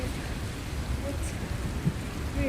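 Rain falls steadily outdoors during a thunderstorm, a close, even hiss of drops with a low rumble underneath and no talking.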